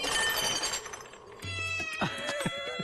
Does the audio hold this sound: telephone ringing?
no